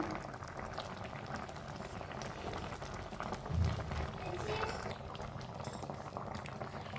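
A pot of food bubbles on a stove, a steady low simmering roil with faint clinks, heard close but quietly and without pause.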